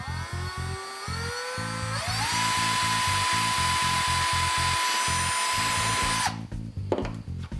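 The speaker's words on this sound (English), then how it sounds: "So I'm going to drill my small hole" A power drill whines steadily as it bores a small pilot hole into a motorcycle dash, the pitch climbing in steps as it bites before the motor stops near the end.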